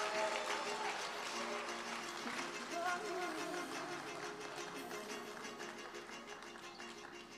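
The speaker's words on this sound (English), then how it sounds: "please give your lovely bride and groom a big round of applause" Wedding guests give the bride and groom a sustained round of applause, a steady wash of many hands clapping heard from some distance, fairly quiet, with a few voices mixed in.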